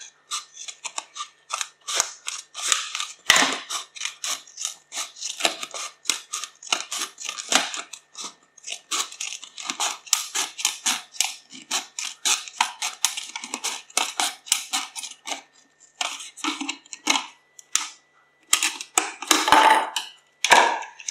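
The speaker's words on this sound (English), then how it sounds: "then follow the line round with a pair of scissors" Rapid, steady snipping of scissors cutting through a crinkly plastic bottle, many crisp cuts in a row with brief pauses, close and alone.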